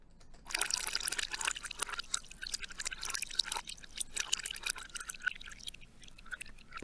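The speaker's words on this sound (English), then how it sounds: "when you reverse them, like this water, will sound kind of the same when it's reversed" A water recording played in reverse splashes and trickles with an odd, backward feel, a continuous stream of drips and gurgles at moderate volume.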